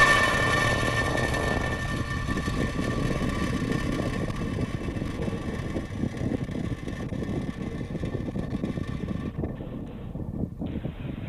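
A SpaceX Falcon rocket launching from California carries two space weather satellites, its engines giving a steady, heavy broadband roar that holds loud for the whole stretch and thins slightly near the end.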